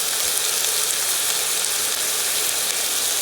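Chopped onion and tomato fry in a pan over low heat, giving a steady, dense sizzle that holds evenly from start to finish with no voices.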